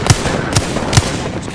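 Gunfire in the video game Apex Legends: three sharp, punchy shots spaced about half a second apart, loud and close over a steady background bed.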